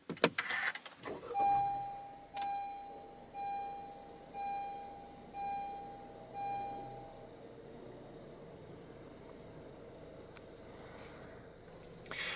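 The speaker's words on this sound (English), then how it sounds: "to start the car, have your foot on the brake pedal and hit the engine start-stop button" A 2018 Honda CR-V engine starts with a push of the start-stop button and settles into a low, steady idle, while a soft electronic chime repeats about six times over the running engine.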